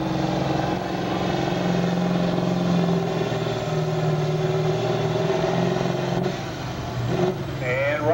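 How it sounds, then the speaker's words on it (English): A Massey Ferguson 1155 tractor with a V8 engine runs at a pulling event, holding a steady loud drone with a shift in pitch near the end, with crowd and announcer noise mixed in. "here we go with that 1155 Massey Ferguson."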